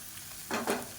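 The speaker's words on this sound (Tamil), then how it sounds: "சேர்த்துட்டு எல்லாத்தையும் நல்லா ஒரு பரட்டு பரட்டி விட்டுக்கலாம்" Tomato and grated coconut chutney ingredients being sautéed and stirred in a pan, a brief sizzling scrape rising midway after near quiet, close and soft, with no talking.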